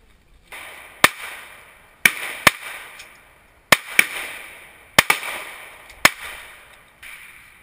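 Sharp, loud reports from a .357 handgun at an outdoor shooting range crack out about nine times in irregular spacing, each followed by a short echoing tail, with no one talking.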